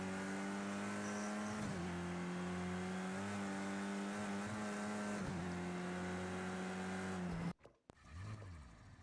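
A Renault Megane touring race car engine in Project CARS 2 drones at a high steady pitch, dipping and rising with gear changes for about seven seconds before cutting off abruptly into a brief quieter passage.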